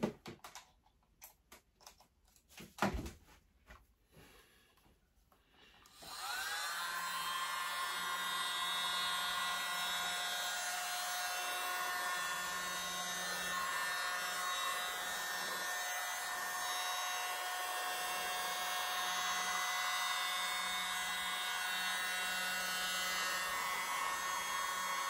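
A small handheld blow dryer is switched on over an acrylic Dutch pour painting, a few faint ticks and handling noises first, then a steady, close, loud whine and whoosh running continuously to the end.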